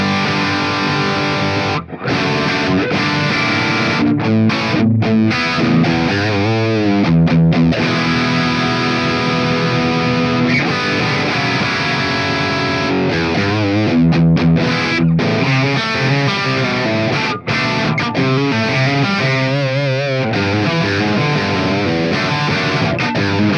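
Heavily distorted electric guitar played through a Marshall amp in 70s mode with a Cameron and a 1960 cab, loud and continuous with sustained chords and brief muted gaps, no talking.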